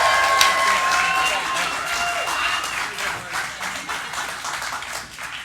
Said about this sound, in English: And the applause died.